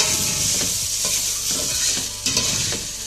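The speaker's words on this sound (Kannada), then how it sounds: "ಚೆನ್ನಾಗಿ ಮಿಕ್ಸ್ ಮಾಡ್ಕೊತೀನಿ. ಎಣ್ಣೆಲೆಲ್ಲ ಚೆನ್ನಾಗಿ ಫ್ರೈ ಆಗಬೇಕು" Carrots and peas stir-fried in oil for ghee rice: a steady loud sizzle underneath repeated scraping stirs of a spoon through the vegetables, close and continuous.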